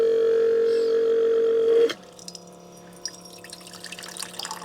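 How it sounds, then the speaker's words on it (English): A Dometic Recon 360 faucet pump on slow feed hums with a steady, close electric tone while priming for about two seconds, then cuts off into faint trickling and dripping water. "So on the slow feed, you'll hear this kind of hum and it's going to prime."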